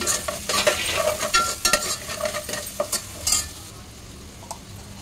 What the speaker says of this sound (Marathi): टोमॅटोसुद्धा छानपैकी परतून घ्यायचा आहे